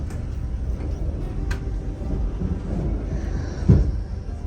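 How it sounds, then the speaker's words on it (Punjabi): The Indian Pacific passenger train pulls away with a steady low rumble and some wind noise, and a single dull clunk comes near the end. "ਚੱਲ ਗਈ ਜੀ ਟ੍ਰੇਨ ਆਪਣੀ"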